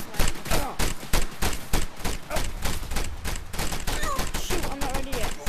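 Video game gunfire rattles out in rapid, sharp bursts of shots, crackling close and loud almost without pause.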